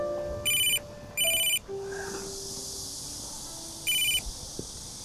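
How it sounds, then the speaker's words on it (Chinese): A mobile phone ringtone chirps in three short, loud electronic bursts, two in quick succession and then one more after a pause, in a quiet indoor room just before a thesis defense session. "我接个电话"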